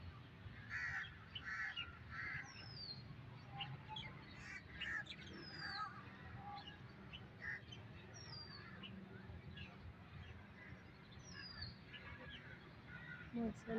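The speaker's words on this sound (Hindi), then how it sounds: "परिंदों की चहचहाट बहुत खूबसूरत लग रही है" Crows caw repeatedly in a park in Lahore Sadar, sharp calls scattered throughout over a low, steady outdoor hum.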